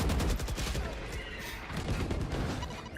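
A Judge shotgun in Valorant fires a quick cluster of booming blasts over dense, busy game noise during a tournament match, while a commentator talks over the action.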